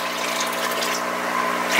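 Water poured from a large jug into a hydroponic reservoir, a steady close gushing pour that runs evenly for nearly two seconds and swells slightly at the end.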